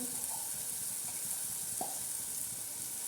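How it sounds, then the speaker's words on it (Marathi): Red chilli masala paste sizzles in a pan while it is stirred for a spicy gourd vegetable dish, making a soft, steady hiss with a few faint scrapes of the spoon. "आता हे वाटण आहे लाल तिखट असं चांगल्या प्रकारे आपण चांगलं हलवून घेणार आहोत"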